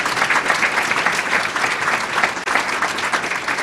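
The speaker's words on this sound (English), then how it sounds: "Round of applause for all those." A college convocation audience claps warmly, dense and continuous with a brief dip midway before carrying on at full strength.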